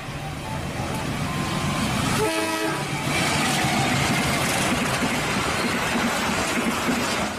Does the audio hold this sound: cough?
no